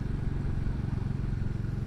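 Royal Enfield Classic 350 with the J-Series 350 engine on a relaxed ride, a steady low single-cylinder thump pulsing evenly at cruising pace, close and moderately loud with no talk over it.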